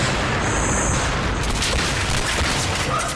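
Loud, continuous explosion and gunfire din from a Call of Duty team deathmatch on the Scrap Metal map, a rocket blast rumbling amid dense broadband battle noise with no clear gaps.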